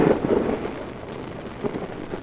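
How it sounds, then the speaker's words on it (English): Heavy rainstorm on a hillside near a sewer overflow point, with a low rumble of thunder under steady rain noise and wind buffeting the microphone, no voices. "Got lightning and thunder."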